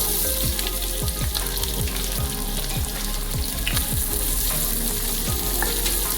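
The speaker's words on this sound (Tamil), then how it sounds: "வெங்காயம் நல்ல ப்ரௌன் கலர் ஆகிறதுக்கு நல்லா வதக்கணும்" Sliced onions with cardamom, cloves and cinnamon sauté in a pan for chicken salna, a dense steady sizzle punctuated by a quick rhythmic series of spatula scrapes and taps.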